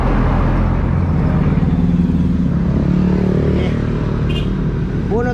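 Honda Smash 115 motorcycle engine after a refresh, running steadily with a low rumbling exhaust drone throughout, close by with some road noise; a voice is briefly heard near the end.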